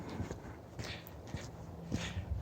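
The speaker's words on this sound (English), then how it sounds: "Another thing I want to show you is my donkey, Spunky." A donkey's hooves clip-clop steadily as it walks nearby, a series of distinct hoof strikes on hard ground at a relaxed walking rhythm.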